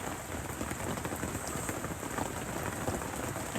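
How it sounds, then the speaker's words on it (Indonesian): Steady, dense rain pours down in a forest during a camping trip, a constant close hiss of drops hitting the surface all around, with no voices. "diterpa hujan menambah kesan mistisnya"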